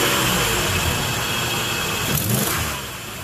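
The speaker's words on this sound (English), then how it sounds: "Go ahead, fire it up. Step on the gas" A 1995 Nissan Pathfinder D21 engine revs close up after an oxygen sensor replacement, a steady loud roar that holds and then eases slightly near the end, with no talking.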